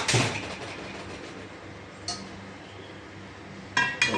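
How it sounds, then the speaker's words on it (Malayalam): A cooking pan (chatti) set down on the stove for frying camel meat curry gives a metallic clank at the start, a light tap midway and another clattering knock near the end, with a faint background hum. "ചട്ടി വെക്കാം"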